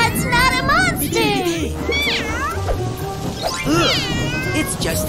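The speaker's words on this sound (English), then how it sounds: "It's just a cat!" A cartoon cat meows several times, drawn-out and wavering, in a kids' police monster truck cartoon, with a child's and an adult's voices talking over and between the calls.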